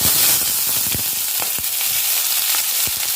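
Onion sizzling in five or six spoons of hot oil for Andhra-style chicken gravy, a loud, close, continuous hiss with sharp pops and crackles, no talk.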